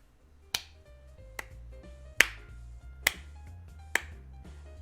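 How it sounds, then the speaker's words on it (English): Slow, sarcastic clapping from the game Magical Diary: Wolf Hall, heard as five sharp, isolated claps spaced about a second apart over a quiet musical background. "From somewhere in the empty space, we hear the sound of slow, sarcastic clapping."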